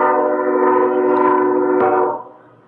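A passing train blows a loud, steady horn with rich harmonic tones for about two seconds before it cuts off and trails away, with no one speaking over it.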